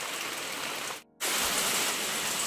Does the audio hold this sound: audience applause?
no